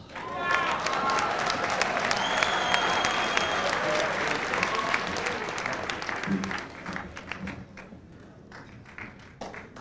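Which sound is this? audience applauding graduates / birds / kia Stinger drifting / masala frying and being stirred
audience applauding graduates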